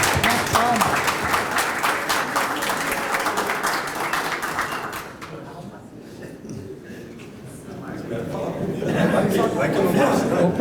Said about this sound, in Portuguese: Palmas, minha gente